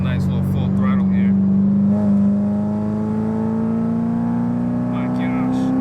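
A Procharged C7 Corvette Stingray, about 640 wheel horsepower, pulls hard at full throttle with a loud engine note and a rising supercharger whine climbing steadily. Brief voices are audible near the start.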